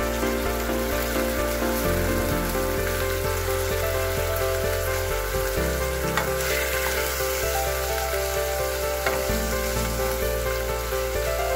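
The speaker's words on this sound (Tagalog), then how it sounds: "Ilagay na po natin ang ating giniling na bawang" Minced garlic frying in a pan for a small home-cooked pork giniling with oyster sauce, a steady close sizzle and crackle running throughout, with background music layered underneath.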